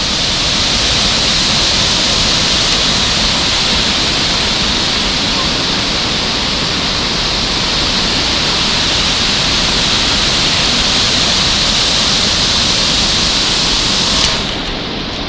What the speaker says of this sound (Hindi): यहाँ पर नदी काफ़ी अच्छी दिख रही है